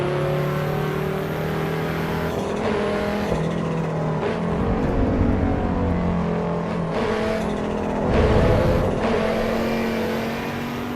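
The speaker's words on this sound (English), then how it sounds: "They introduced the Audi Sport Quattro. It's an absolute beast." An Audi Sport Quattro engine in a racing video game revs and shifts through gears, its tone rising and dropping repeatedly in a loud, steady drone with no talking.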